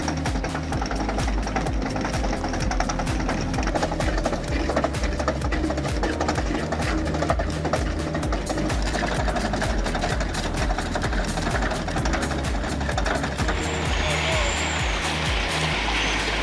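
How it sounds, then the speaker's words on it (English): Cat D11N bulldozer with a 350 horsepower diesel engine pushing large rocks, a steady heavy engine drone with clanking and scraping throughout, loud and continuous with no break. "With a 350 horsepower diesel engine and sharp blade, the Cat D11N Bulldozer effortlessly pushes rocks weighing tens of tons."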